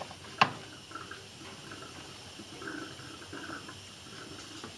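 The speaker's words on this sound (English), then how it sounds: "Hence the glugging noises." Water gurgles and glugs quietly as it drains from the boiler of a 1910 Stanley Steamer steam car, with a sharp knock near the start and soft bubbling after.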